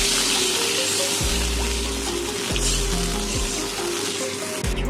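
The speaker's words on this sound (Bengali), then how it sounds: "এবারে দিয়ে দেবো জল" Water poured into a hot pan of fish curry tempering with dried and green chillies, giving a loud, dense hiss and bubbling sizzle that carries on steadily right up close.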